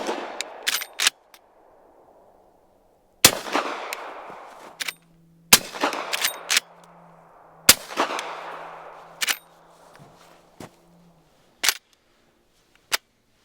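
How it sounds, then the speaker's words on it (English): Subsonic rounds fired through a Dead Air Primal suppressor into dirt outdoors: several sharp, loud suppressed reports spaced a second or two apart, each with a short decaying tail, over a low steady hum. "We're just going to shoot it into the dirt. 2 rounds. This is the subsonic stuff."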